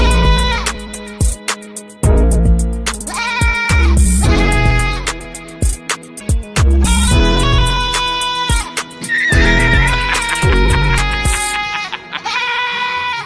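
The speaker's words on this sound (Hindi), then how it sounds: "जरा इस बकरी को देखो।" A goat bleats loudly and repeatedly in long, strained, tonal calls, broken by brief pauses and sharp knocks, close up and dominating the scene.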